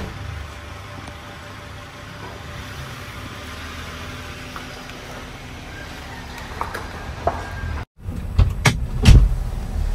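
A Toyota Avanza with an overhauled engine and exhaust sets off on a mountain test drive, its steady engine hum close by, followed by sharp clunks and thuds near the end.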